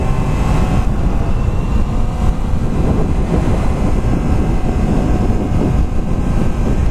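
A Yamaha FZ-10 four-cylinder motorcycle engine roars continuously while riding, its loud, rough drone blended with heavy wind buffeting across the microphone.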